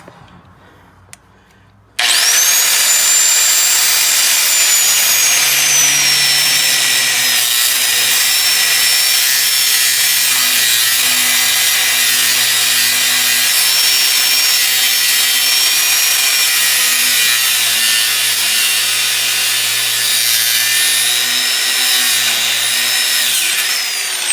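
A power saw cuts steadily through a worn sway bar link on a 2013 Chevy Silverado, a loud continuous grinding rasp that starts abruptly after a brief quiet moment and runs on without pause, with no talking over it.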